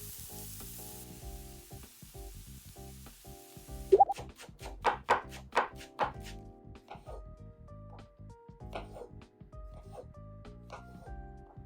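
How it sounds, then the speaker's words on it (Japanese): Onion and garlic sizzling in a frying pan, a steady hiss under quiet background music, with a burst of louder crackling and spattering as they hit the hot oil, then settling into a gentle fry. "まずフライパンに 玉ねぎとニンニクを入れてあげます。"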